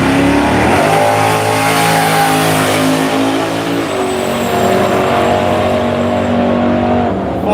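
A radial drag racing car launches hard down the strip at an Australian event, its engine roaring loud and sustained with steady rising harmonics, filling the whole stretch without pause.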